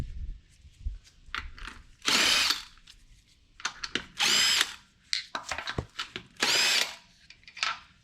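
A power tool spins lug nuts off a wheel of a 2022 second-generation Honda Ridgeline in three loud, sharp whirring bursts, separated by quieter clicks and handling noises, heard close up without talk.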